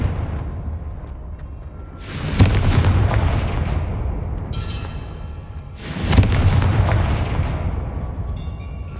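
Two Confringo spell blasts in Hogwarts Legacy, each a sharp, loud boom followed by a long rumbling decay, about four seconds apart over quiet game ambience.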